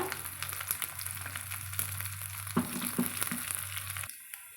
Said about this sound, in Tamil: நம்ம பொன்னிறமாக நல்லா வறுத்துக்கலாங்க